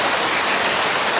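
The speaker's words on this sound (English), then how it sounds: "that was pouring out rain" Heavy rain and hail pour down during a 2017 hail storm in Richmond, Virginia, making a steady, dense roar of water that stays loud and unbroken throughout.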